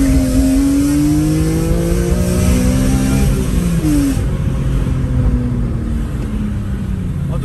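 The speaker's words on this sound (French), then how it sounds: "On va se faire une dernière accélération avant de rentrer à Aubercaille" A car accelerating hard, the engine note climbing through rising revs, with a gear change and another pull, loud and close throughout, no one talking.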